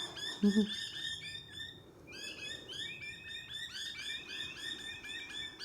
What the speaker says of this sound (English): Have some territorial birds here, making their voices known.